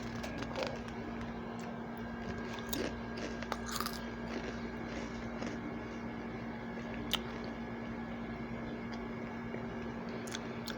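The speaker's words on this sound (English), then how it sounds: "Today is a video that I will be eating a knockoff Cheez-Its." Knockoff baked Cheez-It style cheese crackers from Aldi being bitten and chewed up close, a steady run of soft crunching and moist chewing over a faint constant hum, with no talking.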